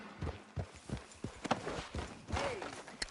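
Horse hooves clip-clop in the Red Dead Redemption 2 video game, a run of irregular soft thuds at moderate level, mixed with other game ambience.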